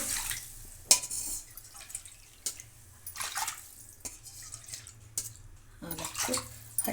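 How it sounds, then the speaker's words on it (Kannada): Water added to a pot while cooking khara pongal for Sankranti, heard as faint intermittent splashes and pours with small clinks of metal vessels, no talk. "ಇವಾಗ ನಾನು ಈ ಟೈಮಲ್ಲಿ ನೀರು ಸೇರಿಸ್ತಿದ್ದೇನೆ"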